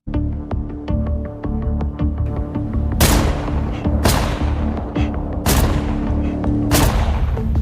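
Gunfire in a desert sniper battle from a war film: several sharp, loud shots ring out one after another over a steady rumbling, tense backdrop. The shots are spaced about a second apart, and no voices are heard.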